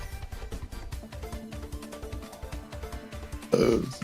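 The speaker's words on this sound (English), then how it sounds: "Sorry, I did not mean to burp." A person gives a single short, loud burp near the end, after several seconds of quiet, muffled sounds.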